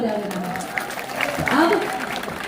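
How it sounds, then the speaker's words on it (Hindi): During a Shiv Mahapuran katha on the Shiv-Parvati wedding, a congregation claps amid a busy blend of voices and music, the applause steady but partly masked by talking throughout. "एक बार अपने लिए जोरदार तालियां हो जाएगा।"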